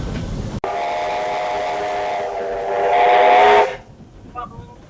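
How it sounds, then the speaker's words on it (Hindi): A train horn, pulled by the driver from the engine cab, blares in a long sustained blast, swelling louder before cutting off abruptly, with rumbling rail noise underneath. "ये थोड़ी थोड़ी देर बाद ड्राइवर ट्रेन का हॉर्न बजाता है।"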